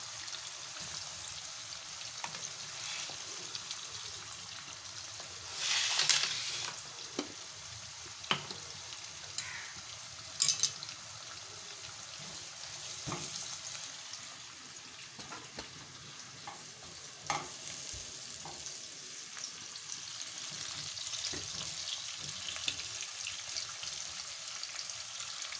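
Thinly sliced onions frying in oil in a pan, a quiet continuous sizzle with occasional stirring scrapes and louder spits, heard close and without talk.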